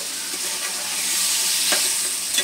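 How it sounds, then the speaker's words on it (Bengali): Prawns fry gently over low heat in a pan as they are stirred, with a continuous soft sizzle and a few scraping clicks of the spatula close by. "এবার একটু নেড়ে দিচ্ছি।"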